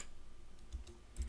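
Soft, quiet keystrokes on a computer keyboard, a few separate taps spread out and ending in a small cluster, heard close over faint room hum.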